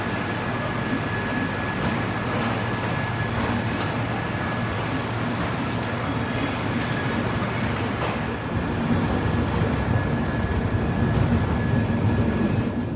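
The 12496 Pratap Superfast Express from Kolkata rolls along the rails with a constant loud rumble and low wheel noise heard from inside a carriage, with no break across the whole stretch.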